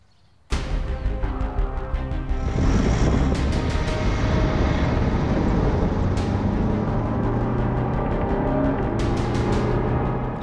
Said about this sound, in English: I reach a speed of 135 kilometers per hour, maintain the speed, turn into the corner with a fixed steering wheel angle